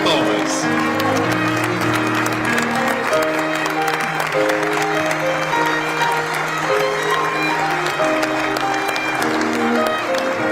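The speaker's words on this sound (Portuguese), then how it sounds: "Pedimos a todos que se levantem e os recebam com uma calorosa salva de palmas." Warm, sustained applause from a large standing audience welcoming Brazil's president and first lady at a state reception, dense and steady throughout with music and voices mixed underneath.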